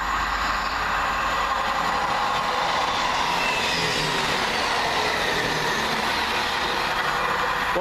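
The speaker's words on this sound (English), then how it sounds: "Next up for Arriva Trains Wells, 1 Juliet 15 from Birmingham International to Aberystwyth via Wolverhampton and Shrewsbury" An Arriva Trains Wales passenger service from Birmingham International to Aberystwyth via Wolverhampton and Shrewsbury passes at Coseley, a steady, loud rushing rumble of wheels and carriages that holds throughout without a break.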